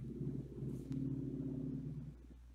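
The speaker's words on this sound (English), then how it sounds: "I kind of heard a car in the background." A car passes somewhere in the background during a trivia session, a faint low rumble and hum that swells and fades over a couple of seconds with no talk over it.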